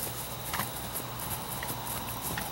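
Horse hooves clip-clop in a steady walking rhythm during lunging groundwork, moderately close and fairly quiet against a constant background hiss.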